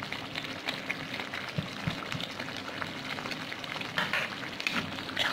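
Lahori kadahi chicken with chopped green chillies sizzles and bubbles in a kadahi, a soft continuous frying hiss broken by a few light clinks and stirring knocks.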